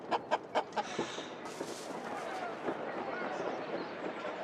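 Chickens cluck in a Roman city street in the city-builder game Anno 117: Pax Romana, a quick run of several sharp clucks at first, then a steady bustling ambient bed of town noise.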